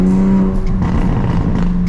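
A Toyota Supra engine revving hard while doing donuts in the rain, with a loud, steady droning note that rises and wavers, close up and without talk.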